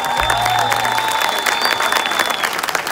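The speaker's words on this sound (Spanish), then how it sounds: "Un aplauso para Yaret, carajo." Crowd applauding a winner, steady dense clapping at close range with some cheering and a tonal sound running through it.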